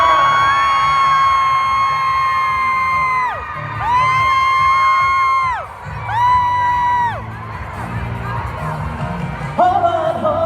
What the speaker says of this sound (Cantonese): 俾啲歡呼聲嚟聽下